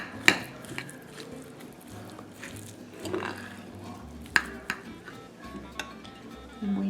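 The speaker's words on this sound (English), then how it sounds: "So I'm going to mix it up to see how much more liquid I need to add" Spoon stirring a bread stuffing dressing mixture seasoned with salt, pepper and sage, giving soft squishy scrapes with a few sharp clinks against the bowl at irregular intervals, fairly quiet and close.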